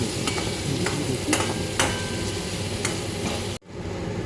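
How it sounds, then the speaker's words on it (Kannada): Finely chopped onions fry in a pan for a rajma dish, a steady close sizzle with scattered stirring clicks and scrapes throughout, then a brief drop near the end before the sizzling resumes. "ಸಣ್ಣದಾಗಿ ಹೆಚ್ಚಿಟ್ಕೊಂಡಿರುವಂತಹ ಈರುಳ್ಳಿನ ಬಾಣಲೆಗೆ ಹಾಕಿ ಚೆನ್ನಾಗಿ ಹುರಿಬೇಕು"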